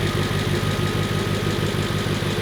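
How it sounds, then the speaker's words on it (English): Audi S8 D2 V8 idling with valve train ticking from the passenger bank, a steady rhythmic low chugging pulse with light mechanical clatter, close and continuous. "there's a little bit more valve train noise coming out of the passenger bank"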